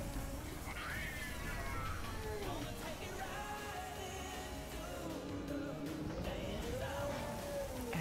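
A cat meowing and caterwauling in Plants vs. Zombies Garden Warfare 2, several drawn-out wavering mews over steady game music, fairly clear and close.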